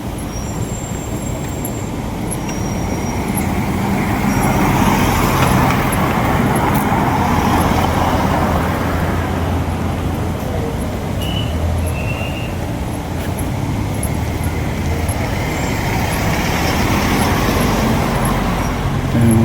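Cars and other vehicles roll through a residential subdivision, a steady wash of road traffic noise heard from nearby with faint high chirps above, no voices.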